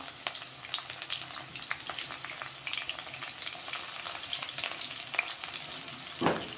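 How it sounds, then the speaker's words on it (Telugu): Onions and green chillies frying in hot oil: a continuous crackling sizzle with small pops, close and fairly loud throughout, with a brief stir or knock near the end and no talking. "ఇప్పుడైతే ఉల్లిగడ్డ పచ్చిమిర్చి వేసుకుంటున్నా"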